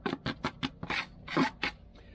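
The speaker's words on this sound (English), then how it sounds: "Literally scraping the bottom of the barrel. Or the bucket." Repeated scraping strokes against the bottom of a bucket, about eight short rasping bursts in uneven rhythm, close and moderately loud with brief pauses between them.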